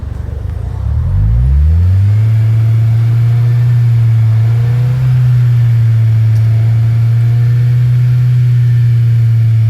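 A Subaru Outback Wilderness with a semi-stock exhaust starts up and climbs to a steady held rev around 3,000 RPM, a loud close low drone that stays level for several seconds.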